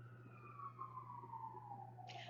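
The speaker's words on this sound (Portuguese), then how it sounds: "Lá vem a sirene." A distant emergency siren wails in a single long tone that slowly glides downward, faint over a steady low hum, with a brief hiss at the end.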